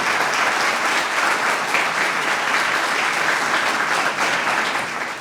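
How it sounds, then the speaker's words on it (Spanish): A crowd at an embassy cultural evening applauds Matías, a Chilean and Argentine documentary and fiction filmmaker, with steady, dense, loud clapping that holds evenly for about five seconds with no talk. "los invito a darle un fuerte aplauso a Matías."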